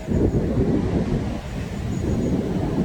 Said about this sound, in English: especially with the wind whizzing across the green